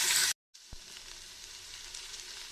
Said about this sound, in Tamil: நம்ம நறுக்கி வச்சுருக்கிற தக்காளியும் சேர்த்து வதக்கிக்கலாம்.